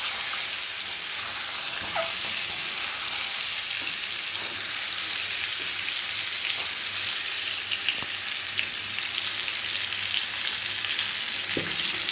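Steady, loud sizzling of mango dish ingredients frying in hot oil in a wok, with occasional pops and crackles and a faint stir now and then.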